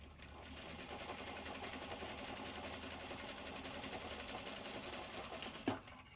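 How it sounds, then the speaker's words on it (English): A home sewing machine winds its bobbin in a steady, continuous whir that runs unbroken throughout, close and fairly quiet, ending with a small click. "Let's wind the bobbin."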